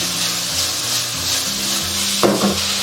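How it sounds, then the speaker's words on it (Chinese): Pig heart being stir-fried with soy sauce in a wok, close and steady sizzling with scraping spatula strokes and a brief louder hiss near the end. "然后喷一层酱油，再炒个10秒左右就可以了"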